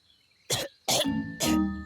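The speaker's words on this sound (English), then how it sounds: "Gaston's coughing" Three harsh coughs from a cartoon character, each short and loud, evenly spaced and close up.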